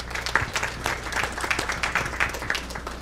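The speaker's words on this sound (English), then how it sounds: "All right, one more time, a round of applause." A crowd at a board meeting applauding, scattered claps blending into a steady patter that holds at moderate volume throughout.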